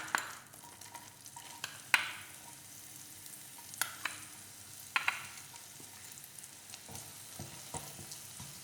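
Spring onion whites fry gently in melted butter in a pan, a soft sizzle broken by a few sharp spatula taps and stirring scrapes, quiet and close without speech.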